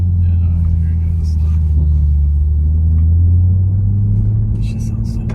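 Toyota Supra sports car engine revving while driving, a loud, steady low rumble that swells slightly mid-way and holds throughout.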